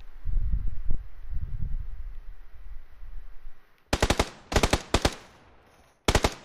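Gunfire in the PUBG video game: after a few seconds of low rumbling movement noise, four sharp loud bursts of shots ring out in quick succession, with a final burst near the end, no talking.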